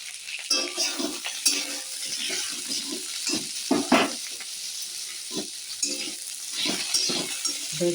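Nigella seeds fry in hot oil in a pan while cooking small fish curry with potatoes, giving soft crackling and scattered stirring scrapes across the clip, moderately near, with no talk.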